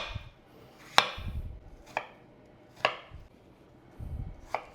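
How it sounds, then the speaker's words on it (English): A knife cutting peeled apples into small cubes on a board, four or five sharp, distinct chops spaced about a second apart, close and clear with no talking. "going to peel these up and then cut them into small cubes"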